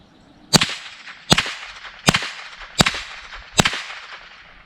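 Five sharp, cracking .22 rifle shots with high-velocity ammunition through a Yankee Hill Machine Phantom 22 suppressor, still loud, fire at an even pace about one second apart, each with a short echoing tail.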